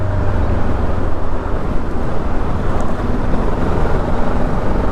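Steady low engine rumble from a MASH K750 motorcycle, with a faint knocking pulse as the engine still knocks slightly, close and continuous, mixed with wind buffeting while riding in third gear; no voices.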